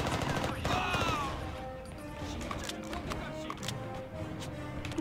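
SMG fire in the Mercenaries: Playground of Destruction game crackles in rapid bursts amid other battle noise, fairly quiet, with a voice talking over it.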